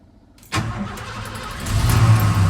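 An old truck's engine cranks and fires up from a cold morning start, jumping in suddenly after near silence and settling into a loud, steady running rumble close by.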